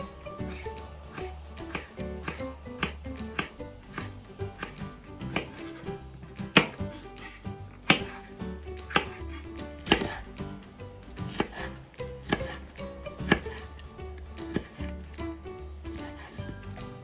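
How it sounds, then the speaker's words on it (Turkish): A knife slices a tomato and a pepper thinly on a cutting board, making a long series of sharp, close taps in an uneven rhythm, each stroke clear against a quiet background. "Ve hemen bir domates ve biber aldım. Şöyle ince ince dilimliyorum."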